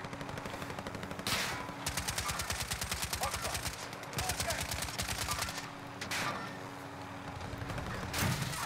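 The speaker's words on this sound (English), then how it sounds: "Oh, yeah, I'm getting shot." Gunfire in the online shooter Call of Duty: Warzone, with rapid automatic bursts of several seconds each, separated by brief pauses, loud and close over a steady background hum, with a voice speaking during the shooting.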